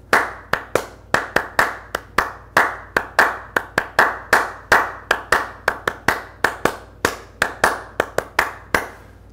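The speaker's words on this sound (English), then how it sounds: "And so I'll start by clapping it." Bare hands clap out the rhythm of a line of Latin verse: around thirty crisp, close claps in an uneven long-short pattern, loud and alone with no talking.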